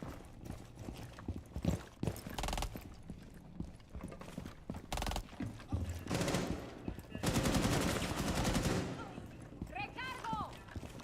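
A shotgun fires in a video game: several sharp, loud blasts burst amid busy game action, with mechanical clatter and a voice talking alongside.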